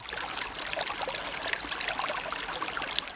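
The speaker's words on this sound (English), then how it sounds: "Well, this is the real Deadwood Creek." Deadwood Creek flowing through the northern Black Hills, a steady close rush and trickle of water that stays even and continuous throughout, with no voices.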